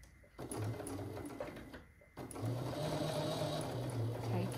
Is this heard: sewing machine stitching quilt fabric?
yes